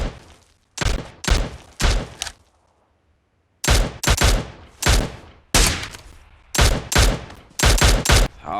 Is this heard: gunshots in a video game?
yes